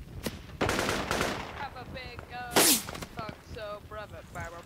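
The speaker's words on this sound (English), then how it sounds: "I'm taking fire from somewhere." Gunfire in the Project Reality mod on the Kokan map, a few sharp cracks and a short burst rising among the voices of someone speaking over the game action, with one loud close blast near the middle.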